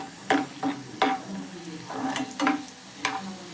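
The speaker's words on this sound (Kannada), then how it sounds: "ಈ ಡ್ರೈ ಫ್ರೂಟ್ಸ್ನ ನಾವು ಕೆಂಪು ಬಣ್ಣ ಬರೋಗಂಟ ಮಾಡಿಕೊಂಡು ಎತ್ಕೊಂಡ್ಬಿಡೋಣ" Dry fruits fry in ghee and oil in a pan, a soft hiss broken by about half a dozen brisk stirring strokes, each a short scraping burst, fairly close and moderately loud.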